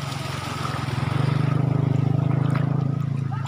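A motorcycle rides through flood water with a steady, rapidly pulsing engine drone. It swells louder as it nears and stays close and prominent.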